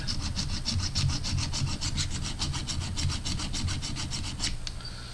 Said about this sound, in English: So this is where you use your files.